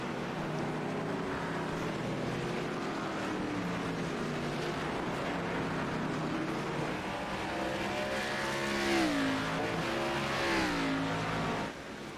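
ARCA race cars lap Laguna Seca, their engines roaring steadily at close range with a rising, pitch-sweeping pass near the end, with no talk over them.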